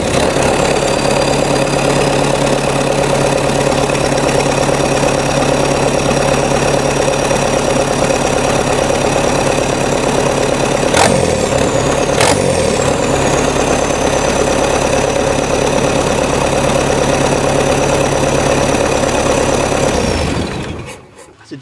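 The diesel engine in a swapped Jeep Wrangler YJ idles with a steady, loud knocking rumble and a thin high whine for about twenty seconds, with a brief sharp sound near the middle before it shuts off at the end.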